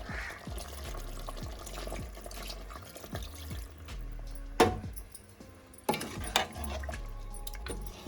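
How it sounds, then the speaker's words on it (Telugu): A glass of water is poured into a pot of chicken curry cooked with chukkakura greens, a soft, faint splash and trickle set among light clinks and kitchen clatter, with no talking. "ఒక గ్లాస్ వాటర్ పోసుకోవాలి."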